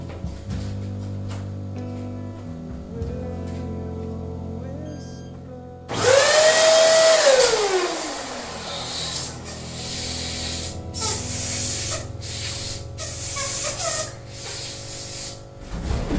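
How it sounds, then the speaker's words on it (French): An electric pump inflates small party balloons for a baby shower decoration, giving a loud continuous hissing rush of air that cuts in sharply partway through and runs on with brief breaks. "Tout plein de petits ballons, je vais gonfler comme ça."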